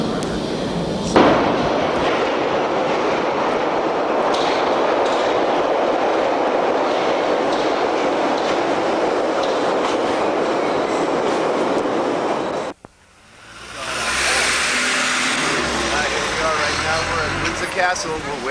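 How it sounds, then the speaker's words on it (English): A London Underground train runs with a loud, steady roar and rattling wheel noise for most of the clip, then the sound drops abruptly as if leaving a tunnel, followed by quieter rolling; voices are faintly present. "I just want to show you how clean the underground railway is here in London"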